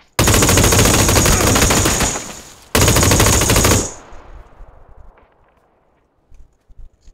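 Loud, sustained SAW machine gun fire in a video game comes in two long bursts separated by a brief gap, then fades into echoing tail and scattered faint footsteps.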